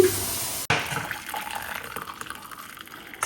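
Boiled cumin, ajwain and fennel detox drink strained through a filter, a steady pouring, trickling rush of liquid that runs almost continuously, close and fairly loud.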